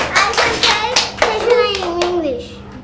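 In a classroom, children clap their hands in a quick run of sharp claps that slows toward the end, with young voices mixed in.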